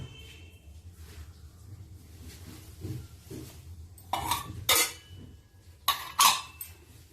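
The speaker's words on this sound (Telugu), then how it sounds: "బాగా మొత్తం కలిసేలాగా చక్కగా మిక్స్ చేసుకోండి" A spoon stirs mango semolina cake batter in a bowl, with soft mixing sounds punctuated by several louder clinks against the bowl, close up.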